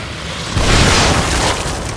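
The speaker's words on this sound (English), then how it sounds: "Oh, he's throwing dynamite." An enemy's thrown dynamite goes off in The Evil Within, a loud, close booming blast that swells midway and rumbles on with a dense, noisy roar as it fades slightly.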